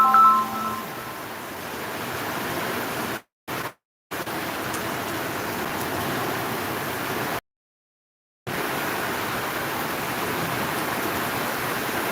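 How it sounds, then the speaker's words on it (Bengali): Rain falling outdoors at Lakshmipur market, a steady broadband hiss of downpour that continues without a break, with two brief dropouts. "বৃষ্টি চলছে"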